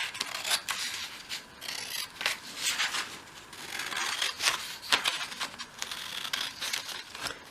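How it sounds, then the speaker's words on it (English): Scissors cutting out small paper calendar sheets for a 1/12th scale shop model, a steady run of soft snips and papery rasps, close and quiet, with no voices. "So just cut out the 9 calendars"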